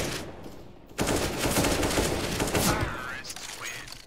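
Rapid automatic gunfire in Counter-Strike: Global Offensive rattles in a sustained burst after a sudden start, fairly quiet, with faint game ambience before and trailing off afterward.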